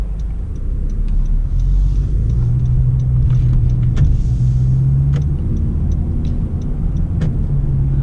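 A Honda car with a CVT transmission cruises in normal drive mode, giving a steady low road and engine rumble from inside the cabin with a faint, even drone and occasional small clicks, and no talking.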